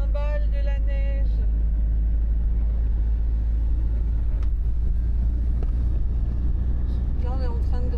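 A camper van climbing a snowy mountain road in Provence at about 964 metres, its engine a constant loud low drone throughout, with brief voices and faint tonal sounds near the start and end.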